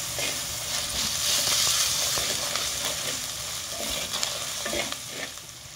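Onion with ginger-garlic paste, chili powder and salt stir-fried in a clay pan: a loud, even sizzle and hiss with repeated scraping of the spoon, close up and with no talking.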